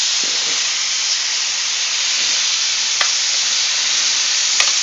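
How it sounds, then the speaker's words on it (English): Steak sears in a hot pan while being flipped, producing a loud, constant hissing sizzle with a couple of faint clicks from the turning. "we're going to turn these steak over"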